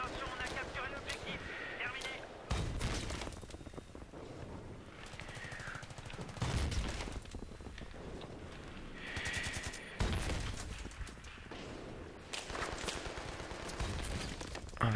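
Repeated bursts of automatic gunfire and heavy booms in a Battlefield 3 multiplayer match run almost without pause, loud and dense, with a voice speaking over the shooting.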